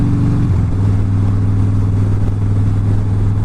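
A motorcycle engine runs steadily close by through a cold-season ride, its low drone holding constant after a brief shift in pitch near the start, with no talk over it.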